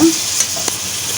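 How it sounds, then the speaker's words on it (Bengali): Onions frying lightly in a pan for a spicy meat pitha filling, a steady soft sizzle with a brief stir partway through, short and close. "হালকা একটু পেঁয়াজটা ভেজে নেব, হালকা।"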